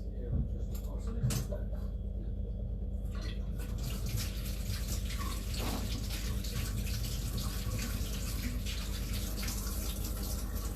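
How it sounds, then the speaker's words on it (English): Hands washed under a running kitchen tap, a steady close rush of water with splashes and a few clinks, continuous and fairly loud, over a low hum. "I'm gonna quickly wash my hands."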